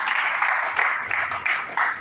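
A live seminar audience claps for themselves, a steady rush of many hands with slight swells over about two seconds, fairly loud and continuous without any voices.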